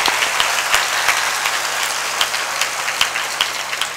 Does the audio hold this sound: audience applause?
yes